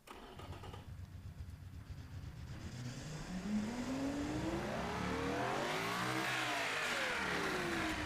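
A simulated 3.5 litre 974 horsepower V12 in a Group C race car built in the Automation game starts, then revs up, with pitch climbing steadily, dipping, and sweeping high again in a loud sustained howl.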